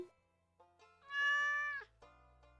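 A cat meows in the farm game Stardew Valley, one drawn-out, high, clear meow in the middle, preceded by a few shorter soft chirps and followed by a brief faint one, over quiet game ambience.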